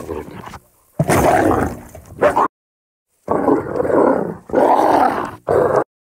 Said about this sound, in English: I'm going to search for some wolf sounds now, because we are dealing with a werewolf in this film.